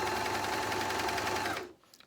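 A JUKI MCS-1500N coverstitch machine hems fabric with a hemming attachment, running in a steady fast mechanical whir of rapid stitching close by, then stopping abruptly near the end.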